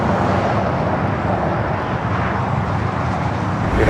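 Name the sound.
Japan Airlines Airbus A350-1000 arriving from Tokyo Haneda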